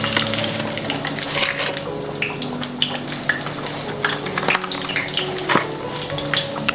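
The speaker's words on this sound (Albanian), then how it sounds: "Do t'i skuqim në vaj të nxehtë 170 gradë për 3 minuta." Fish patties fry in hot oil at 170 degrees, giving a continuous crackling sizzle dotted with sharp pops and spits, steady and close with no talk.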